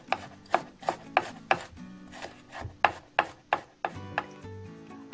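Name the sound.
knife chopping garlic into mince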